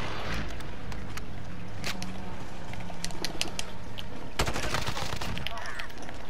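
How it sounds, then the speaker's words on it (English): Gunfire in the video game Warzone, with sharp single shots and short automatic bursts scattered throughout, denser near the end, heard under constant game noise and some talk. "Someone shot at me."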